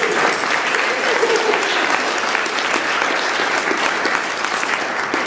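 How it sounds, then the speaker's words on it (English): A conference audience at the Humanity+ Melbourne Summit applauds, a dense, even wash of clapping holding steady throughout at a loud level. "So everyone, let's applaud Adam for that."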